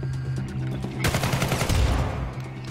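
Shotgun firing in the video game Syndicate (2012): a heavy blast hits about a second in over a dense background of game gunfire and rumbling action.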